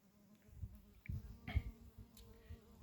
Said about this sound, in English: There's another bee coming in, trying to find something now.